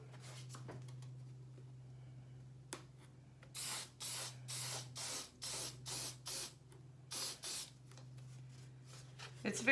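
Aleene's Acrylic Sealer Gloss Finish sprayed from an aerosol can in a series of about eight short, close bursts with brief pauses, over a steady low hum.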